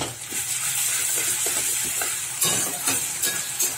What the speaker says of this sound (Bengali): 1 চামচ আদা রসুন বাটা একটু তেলের মধ্যে একটু নাড়িয়ে নিলাম